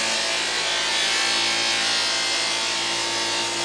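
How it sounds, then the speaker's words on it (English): Buffing wheel polishing a small custom plunge dagger blade, a loud continuous whirring hiss with steady rubbing friction, unbroken for several seconds. "now I'm going to buff it out on my buffing wheel here"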